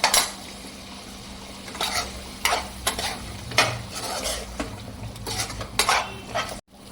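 Mutton pepper fry is stirred in a pan of simmering oil, with repeated scraping spoon strokes over a steady close sizzle that stops abruptly at the end.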